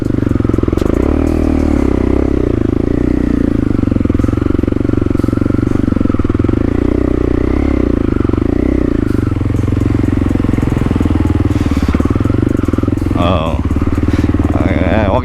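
A motorcycle engine drones and revs on a mountain trail ride, loud and close throughout, with clattering and scraping over rough ground and a brief burst of throttle near the end.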